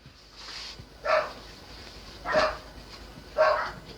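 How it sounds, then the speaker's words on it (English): Household dogs fighting, three sharp barks spaced about a second apart, fairly close and distinct over a quiet room. "This is fun. The dogs are fighting."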